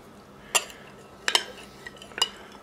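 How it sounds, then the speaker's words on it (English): A whisk briefly mixing mango mousse mixture in a bowl, giving three separate light metallic clinks against the side, close and fairly quiet, with no one talking. "Mix that up with your whisk briefly."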